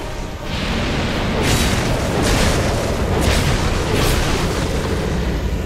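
The Ancient Dragon's fire attack in Dark Souls 2: a loud, sustained roaring blast of flame with a deep boom, several surging bursts rising over a continuous rumble, with no speech.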